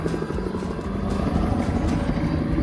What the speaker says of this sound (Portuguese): Mais um helicóptero passando aqui